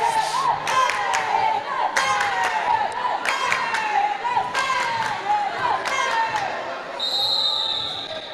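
Spectators at an indoor university men's volleyball match cheering for the Cave Hill team, with repeated sharp shouts, clapping and ball thuds in a reverberant hall under commentary.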